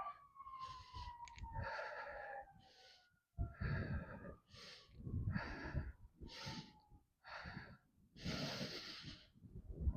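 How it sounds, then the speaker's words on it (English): Audible yoga breathing, with repeated inhales and exhales in soft, airy bursts, is heard up close and fairly quiet, with a faint siren-like tone drifting underneath. "moving with the breath. Inhale, exhale."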